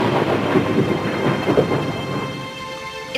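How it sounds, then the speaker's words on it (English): Thunder rumbling loudly amid a rainstorm, a deep rolling boom with a couple of swells that fade toward the end, with no talk. "It's just thunder."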